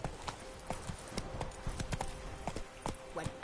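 In the video game The Witcher 3, the horse Roach trots with steady, close clip-clop hoofbeats in an even rhythm. The clip is fairly quiet, and a voice may speak faintly underneath.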